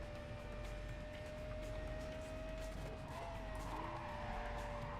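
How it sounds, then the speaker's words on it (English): Car engine in Need for Speed: Carbon holding a steady high drone, with tire skidding and rising pitch toward the end, continuous and loud, no talk. "this car sounds absolutely wonderful"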